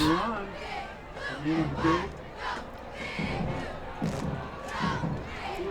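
Crowd noise from the stands at a night high school football game, Nimitz Vikings against Pearce, swells and shouts in bursts. A voice talks over it throughout.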